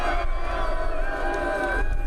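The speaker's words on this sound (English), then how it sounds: "there were massive crowds here in San Francisco to both cheer and jeer the Olympic torch" Crowd noise from the massive San Francisco crowds cheering and jeering the Olympic torch relay, a steady dense roar of voices and babble at middle distance with a narrator speaking over it.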